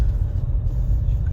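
A bus passing close by on a road at Cape St. Vincent near Sagres, Portugal: steady, loud low-frequency engine rumble and road noise throughout, with no voices.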